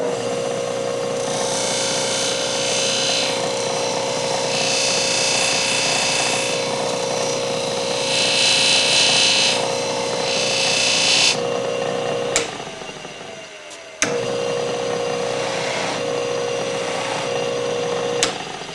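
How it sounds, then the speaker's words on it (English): A woodcarving tool's bevel is honed back and forth while sharpening, producing a loud, continuous rasping rub. It stops briefly near the end with a couple of sharp clicks, then resumes. "I'm gradually going to rotate this tool around, find the other bevel, and just kind of go back and forth like this until I get this new edge set"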